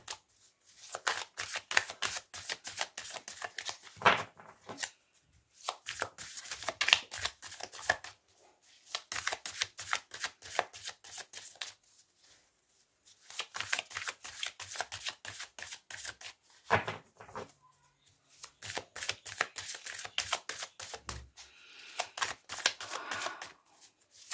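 Rapid riffling of a deck of cards being shuffled for a reading, several bursts of quick crisp flutters separated by brief pauses, close and clear with no voice.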